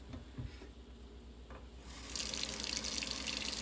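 Tap water runs into a container in a kitchen sink, starting after a few small clinks and then a steady, faint hissing stream that fills it, with no voices.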